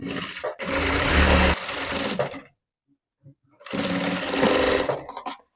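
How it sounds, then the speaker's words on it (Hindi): A sewing machine runs basting stitches on a blouse in two loud bursts, a long run then a pause and a second run, stitching close up with no talk. "अब यहाँ पे मैं कच्ची सिलाई लगा रही हूँ।"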